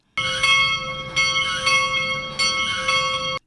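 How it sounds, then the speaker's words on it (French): The bell of Notre-Dame Auxiliatrice parish church in Kati rings in bright, clanging strokes about every second, each one ringing on with a sustained metallic tone, close and alone. "Et à 8 heures, la cloche sonne."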